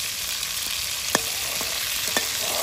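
Food fries in a pan until browned, with a steady, close hiss of sizzling oil and a few faint knocks of stirring throughout, without any voices.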